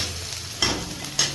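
Capsicum and onion frying in a pan for chili momos, a soft steady sizzle with two sharp scraping stirs of a spatula.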